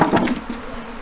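Honeybees from a collected swarm buzzing around the entrance of a hive, a dense close hum with a louder burst at the start that settles into a steady drone.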